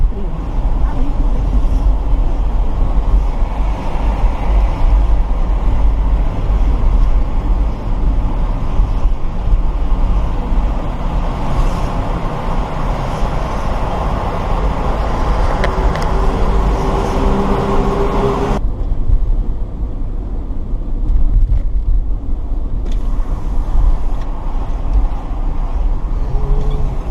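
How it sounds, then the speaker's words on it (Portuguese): Road traffic on a congested city street in São Paulo on a holiday eve, heard from inside a moving van as a steady low engine and road rumble throughout, with a brief quieter stretch near the end. "o trânsito tá meio apertado"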